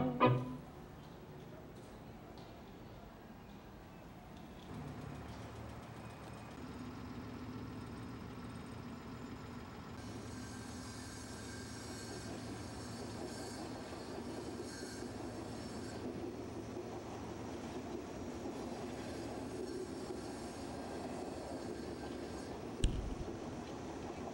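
A train rumbles steadily along the Sarmiento Railway in Floresta, Buenos Aires, for a long stretch, with a continuous engine drone and faint wheel noise, ending in a sharp clank.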